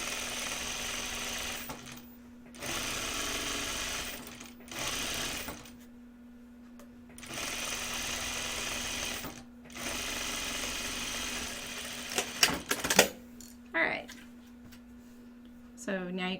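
A sewing machine stitches a pocket side seam on a garment in several steady bursts separated by short pauses, with a constant mechanical hum, then a few sharp clicks near the end.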